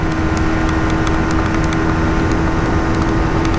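A 2025 Yamaha XSR 155 motorcycle pulling hard in fifth gear, a loud, steady engine drone mixed with wind rush, constant and close with no letup.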